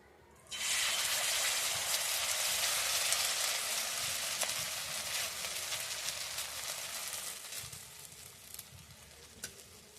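Chicken and potato batter dropped from a ladle into hot oil bursts into a loud, dense sizzle that starts abruptly and keeps crackling steadily, easing slightly toward the end.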